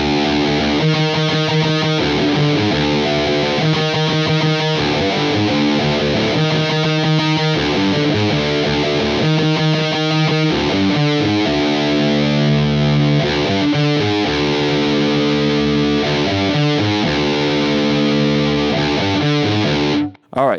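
A distorted electric guitar plays a punk song riff slowly, note by note, in repeating phrases with short pauses between them.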